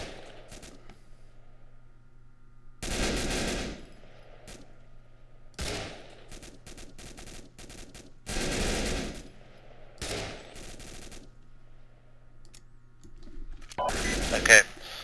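Machine gun fire in the military game ARMA 2 arrives as several short, loud bursts spread across the stretch, separated by quieter gaps with a low background hum and faint voices.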